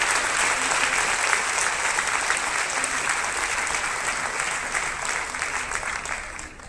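Steady applause from an audience of women at a Women's Day gathering, dense and sustained throughout at moderate loudness, fading slightly at the end.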